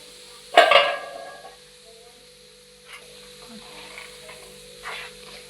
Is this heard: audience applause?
no